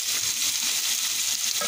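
Carrots and potatoes are tipped into a pan of hot oil with white onion, giving a steady, bright sizzle and crackle that fills the whole moment without pause.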